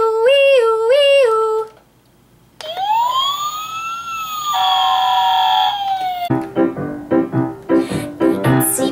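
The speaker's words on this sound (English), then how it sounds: "Can you make a siren?" A toy fire truck with a big ladder sounds its electronic siren, rising and falling wails that switch between tones, loud and close, followed by a burst of busy chirping toy effects.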